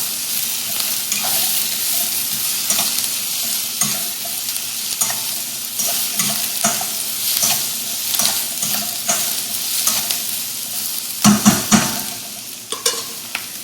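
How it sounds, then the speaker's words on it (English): Sweet potatoes and onions sautéing in a pot for a one-pot coconut curry, a continuous hiss of frying with repeated spoon stirs and scrapes, a clatter of utensil knocks near the end. "And then we're going to throw in the sweet potatoes."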